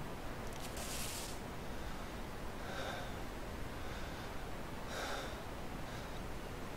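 A character in the video game DayZ pants heavily, with several breathy gasps rising above a constant loud hiss of wind or static.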